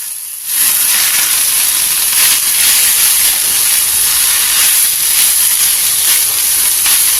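Greens dropped into hot oil with green chillies and garlic give a loud, steady, hissing sizzle that bursts in suddenly and roars evenly throughout, close and with no talking.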